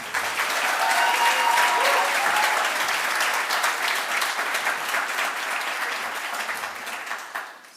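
A commencement audience at the Institute of Design applauds to welcome a speaker, with dense sustained clapping from a large crowd that slowly tapers off over several seconds.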